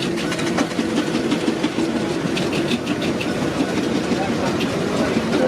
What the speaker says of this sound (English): Spencer's of Manchester, another what we call Showman's engine